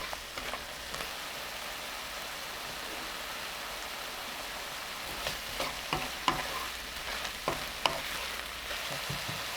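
Eggplant stir-frying in a pan with soy sauce and corn syrup seasoning as peppers are mixed in, giving a soft, even sizzle with occasional spatula clicks and no talking.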